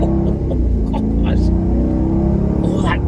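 A Bentley Mulsanne accelerates hard, its deep engine rumbling loud and close from inside the car, with a voice speaking over it.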